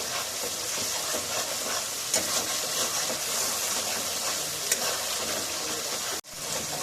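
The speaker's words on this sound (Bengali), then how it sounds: "কাজু বাদাম বাটা দেওয়ার পরে কিন্তু খুব ভালো করে ভাজতে হবে" Cashew paste frying in a spiced chicken do-pyaza masala gives a steady, loud, close sizzle with the wet scraping of constant stirring, unbroken until a brief cut near the end.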